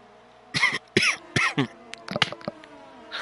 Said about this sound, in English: Now I got a cough.